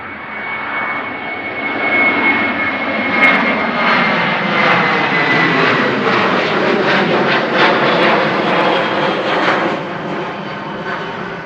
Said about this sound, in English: KLM's many 737s just took off, let's have a look.